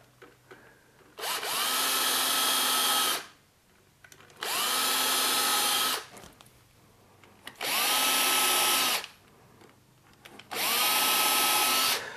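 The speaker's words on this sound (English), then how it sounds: "Now I'll pre-drill the legs of the bench." A power drill whirs in four separate bursts of about two seconds each, pre-drilling the legs of a bench, with short quiet pauses between them.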